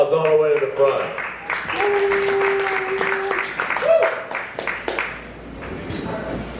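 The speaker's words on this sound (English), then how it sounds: "Huge round of applause all the way to the front." Audience clapping at a comedy open mic, a moderate wash of applause with a voice speaking and some cheering over it, fairly close.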